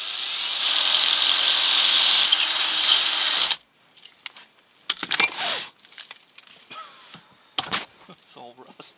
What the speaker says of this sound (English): I'm going to take cleaning to another level with my 3/16 drill